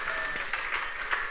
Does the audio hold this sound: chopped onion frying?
no